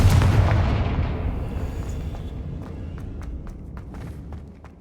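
A Confringo blasting spell goes off in the video game Hogwarts Legacy, a loud, deep rumbling blast that slowly fades, followed by a run of sharp, crackling impacts.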